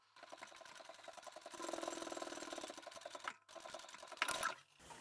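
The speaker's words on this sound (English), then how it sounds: "we're going to sew from the top down to the bottom, right across the centre" A sewing machine stitches straight across a fabric basket divider, its rapid needle chatter running in close, even bursts with a brief pause before a final short run.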